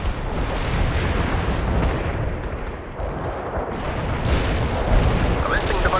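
Artillery strike barrage from the World in Conflict video game: heavy overlapping explosions and rumbling booms rolling on without pause, with voices speaking over the shelling.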